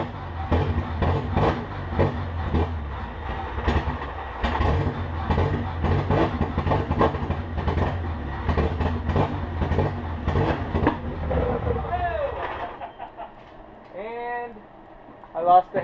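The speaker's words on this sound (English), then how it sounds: "it'll crank via the ignition at this point" Car engine turned over on the key and firing up using the stock TSX ignition electronics, a loud continuous rumble with rhythmic pulses that cuts off abruptly near the end, with voices talking over it.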